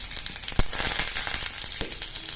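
Curry leaves and asafoetida hit hot oil already holding mustard seeds and urad dal, making a loud, close crackling sizzle with a few sharp pops; no voices.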